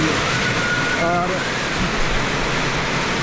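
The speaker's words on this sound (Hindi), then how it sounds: "ये देखिएगा इतनी तेज़ बारिश आ रही है" A heavy downpour on a Jakarta street makes a loud, dense, constant hiss that fills the whole stretch, with a voice faintly audible under the roar.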